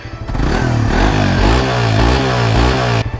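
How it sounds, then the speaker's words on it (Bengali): Suzuki GSX-R150 sport motorcycle with a dual-barrel exhaust revving loudly up close, the engine note rising and falling in quick throttle blips before dropping off at the end. "এই বাইকে ইউজ করা হয়েছে ডুয়েল ব্যারেল এক্সস্ট, যার কারণে এটার সাউন্ডটা খুবই সুন্দর।"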